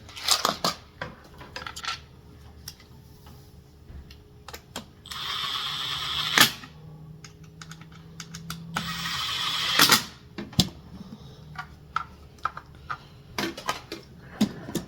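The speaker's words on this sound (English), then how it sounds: "So I'm going to start some screws in there." Screws are driven into the plastic case of a Milwaukee tool charger being converted into a power station. Two longer bursts of driving and several sharp clicks and knocks are heard close up, with no talking.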